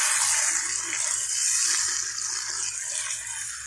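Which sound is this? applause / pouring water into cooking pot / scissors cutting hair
pouring water into cooking pot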